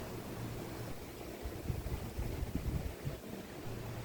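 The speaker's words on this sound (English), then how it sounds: "All you hear is the rustling of the wind through the trees, and it sounds like ocean waves above your head." Wind rustles through the trees along the Pu'u Pia forest trail in Manoa, Hawaii, a soft, steady wash like distant surf, swelling slightly midway with faint low gusts and no voices.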